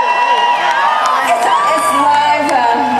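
Wild crowd at a live B-52s show inside the Paramount Theater, loud whoops, shouts and cheering filling the room continuously, close and dense, with voices yelling over one another.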